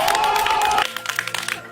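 A voice carries for a moment, then a village crowd at a political meeting breaks into a short burst of scattered hand clapping that lasts about a second.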